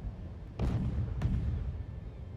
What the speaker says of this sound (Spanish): Bombas de humo. Algo temprano para los fuegos artificiales.